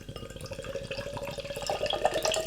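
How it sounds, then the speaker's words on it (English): OJ Premium strong beer (Orangeboom Strong) is poured vigorously from a can into a glass, a close, loud gushing and fizzing splash that builds steadily across the short stretch. "Big rigorous pour."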